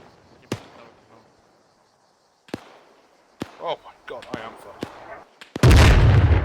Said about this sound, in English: That was the mortar teams.